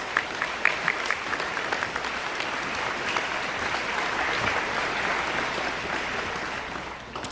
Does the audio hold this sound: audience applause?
yes